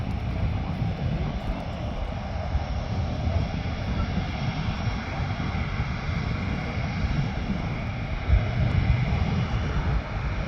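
A McDonnell Douglas F-15 Eagle jet taxis out, its engines giving a steady, loud roar that fills the scene at a distance and swells slightly near the end.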